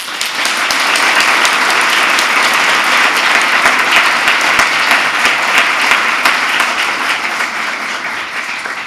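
A theatre audience applauds the cast and crew of a play, with loud, dense, sustained clapping from many hands continuing steadily throughout.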